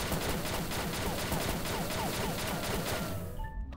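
An 8-star Ex Complete World-Immortal shotgun in the online shooter XSHOT fires a fast, even string of booming shots, loud and close, before cutting off abruptly at the end.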